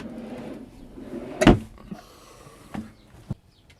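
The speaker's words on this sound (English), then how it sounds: "and then like a pantry drawer underneath the fridge here." A pantry drawer beneath the fridge in a Fiat Ducato camper van conversion kitchen slides shut with one sharp, close knock, followed by a couple of lighter bumps and rattles.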